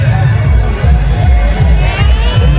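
Crowd noise at the Bhairikoppa village fair in Hubballi, a dense, continuous murmur of many voices with low rumbling thumps throughout, loud and close.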